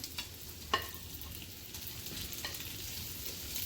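Wild ramps sizzling and frying in a hot pan, a steady soft crackle with a couple of sharp clinks as they are tossed around, fairly quiet and close.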